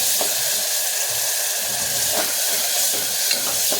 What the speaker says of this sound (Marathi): आता यामध्ये टोमॅटोची ग्रेव्ही टाकून घ्यायची. छानपैकी हलवून घ्यायचं